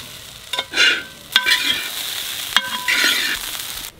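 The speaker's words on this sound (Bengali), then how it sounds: "তো চালের সঙ্গে একটু ভাজলাম ঘিটা" Rice for jeera rice being fried in ghee in a pan, with a steady sizzle broken by a few sharp scrapes and stirs of a spatula against the pan, close and moderately loud with no talking.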